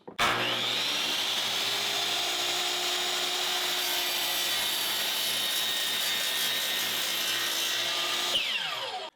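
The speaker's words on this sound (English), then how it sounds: "we're just going to go ahead and make this cut at this angle" Power saw cutting an angled line through a wooden board for a plant stand, loud and steady for about eight seconds with a continuous whining buzz, then winding down at the end.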